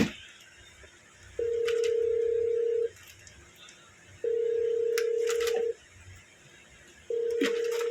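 Telephone tones repeat in long, steady, even bursts, about three of them with short gaps between, loud over a quiet room with faint background noise.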